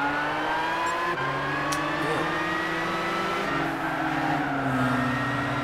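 A Volkswagen GTI Roadster in Gran Turismo 6 holds a loud, continuous engine drone that shifts pitch as gears change and revs rise and fall, with no voices over it.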